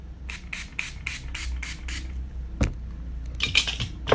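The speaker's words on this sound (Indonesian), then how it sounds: "Kita semprotkan lagi dengan napca." NaPCA facial mist is sprayed onto the face during a skincare routine: about eight quick, soft hissing spritzes in steady rhythm, close and clear, followed by a sharp click and a few more brief sprays.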